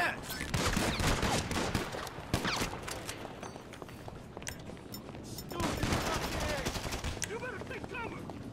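Carbine gunfire in GTA 5 Online: dense, rapid bursts of automatic shots, loud at first, easing off in the middle, then returning, with scattered single shots near the end.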